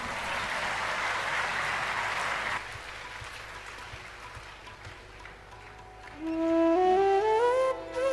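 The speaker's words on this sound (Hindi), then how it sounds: "एक बार बजाइए ताली इस पर।" An audience claps during a Hindu religious discourse on the glory of Kashi, a broad burst of applause that fades after a couple of seconds, followed by quiet and then a rising sustained musical tone.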